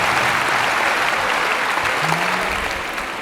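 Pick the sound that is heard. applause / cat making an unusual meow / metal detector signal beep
applause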